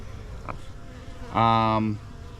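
Honey bees in an open hive, with one close bee passing in a steady, loud buzz lasting about half a second over a soft background hum.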